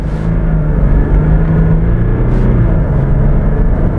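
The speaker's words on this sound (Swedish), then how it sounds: "Ett litet knatter tillsammans med ett litet lätt ylande från turbosarna" Jaguar XF diesel engine heard from inside the cabin while revving, a steady loud low rumble with a faint whining tone layered on top, continuous throughout without talk.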